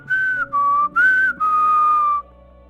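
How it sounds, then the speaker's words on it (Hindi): A boy named Tommy whistles a cheerful tune while walking away in a Hindi animation, four clear rising and falling phrases in quick succession, close and alone with no talking. "नहीं पढ़ना होगा नहीं पढ़ेंगे, और एकदम सीटी बजाते हुए चल जाता है।"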